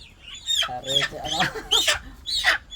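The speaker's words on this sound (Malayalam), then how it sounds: "മുട്ടയ്ക്കായിട്ടുള്ള ഗ്രാമശ്രീ ഗ്രാമപ്രിയ കോഴികളാണ്" Gramasree and Gramapriya egg-laying hens give a few close, loud clucks and squawky calls in short bursts spread across a couple of seconds, with no background noise between them.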